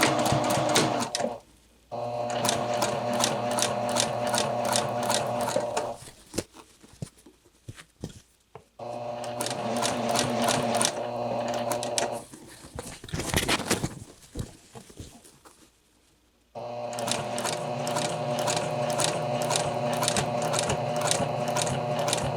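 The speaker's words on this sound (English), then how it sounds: "I'll stitch right here about a 1/16 of an inch away from my stitching line, my seam line" A home sewing machine stitches a curved neckline facing seam in fast, steady bursts, pausing several times between runs with quiet gaps, close and clear with no talking.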